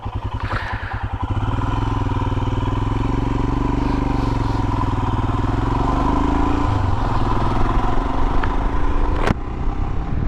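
A Royal Enfield Himalayan adventure bike rides off-road along a green-lane byway, its single engine chugging steadily and loudly with rattles and clatter from the rough track and a sharp knock near the end.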